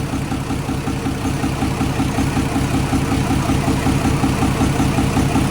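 An Isuzu 6BG1 diesel engine, rebuilt with genuine Japanese piston rings, idles at close range with a steady, even low rumble and a rapid regular knock. It runs alone with no talk.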